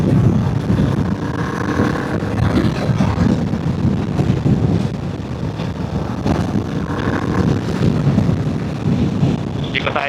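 Strong wind buffets an outdoor microphone near a dam, a loud, continuous low rumble with gusty surges throughout.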